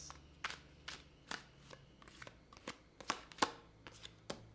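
Tarot cards shuffled by hand in a quiet room, giving sharp intermittent slaps and riffles at an uneven rhythm, close and moderately loud, with no voices.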